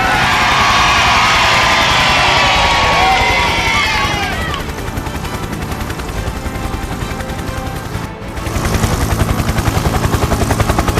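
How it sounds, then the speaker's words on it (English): A crowd gives a big cheer as a helicopter lowers a small boy to the ground in a Peppa Pig cartoon; loud, dense cheering and whooping fills the first few seconds, then fades into steady helicopter rotor noise that continues to the end. "a big cheer from the crowd"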